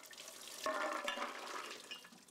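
Soaked almonds are rinsed under running water, a short splashing and rattling wash that swells briefly midway before settling into a steady stream.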